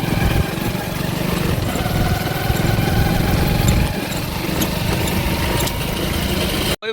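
A Hero Splendor motorcycle engine runs steadily while riding on a farm, a loud continuous mid-pitched drone close by that cuts off abruptly at the end, with no voices.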